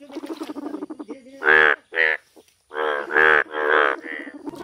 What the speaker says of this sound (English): F for frog. F for frog.